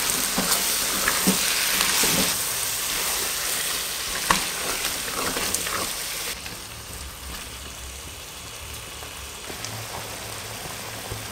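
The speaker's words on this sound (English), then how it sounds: "Now we add in my chopped onions, chopped red peppers, and tomatoes. So now I add up and stir." Chopped onions, red peppers and tomatoes frying in a pot for vegan egusi, a constant crackling sizzle with intermittent utensil scrapes and taps as they're stirred, fading somewhat quieter after midway.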